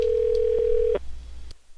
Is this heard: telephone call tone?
yes